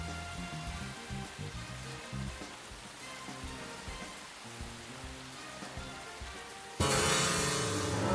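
Steady rain in the video game Deadly Premonition, a dense continuous hiss that suddenly swells much louder near the end, with no talk over it.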